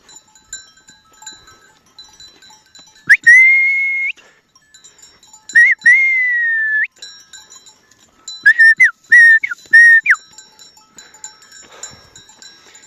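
Goat kids bleat on a highland pasture, several loud, close cries coming singly and then in a quick cluster of three or four, over a quiet outdoor background with faint whistling or bell-like tones.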